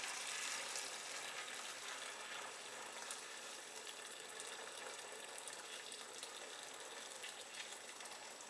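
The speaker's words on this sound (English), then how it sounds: "So we'll just pour this hot water on the pincher." Hot water is poured onto tea bags in a pitcher, giving a steady, continuous splashing gush that stays fairly even and quiet throughout with no talking.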